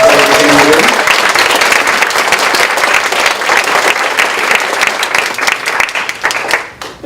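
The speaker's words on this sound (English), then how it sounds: "But one more big round of applause for our classified folks." An audience at a school board meeting gives a big round of applause, dense, loud clapping that starts over a brief bit of talk, holds steady for several seconds, then tapers off.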